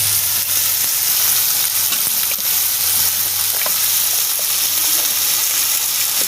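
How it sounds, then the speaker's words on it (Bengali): Food fries in hot oil in a pan, giving a loud, dense, unbroken sizzle up close, with faint stirring beneath it and no speech. "এটা একটু ভেজে নিচ্ছি। তেল দিয়ে করছি"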